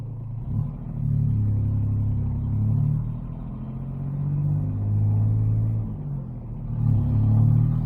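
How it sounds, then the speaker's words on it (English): Small 719 cc Kubota diesel swapped into a Honda Insight, unmuffled, drives along with a loud low rumbling drone that rises and falls through gentle revving and gear changes, close and alone without talk. "if we had a muffler to tone down this little diesel engine, this car would be really nice to drive"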